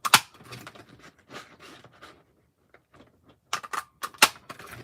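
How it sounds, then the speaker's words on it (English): An old, discontinued Stampin' Up paper punch cutting through card, giving several sharp clacks and crunches, the loudest clustered near the end, each one close and crisp with quiet pauses in between. "This is an old Stampin' Up punch."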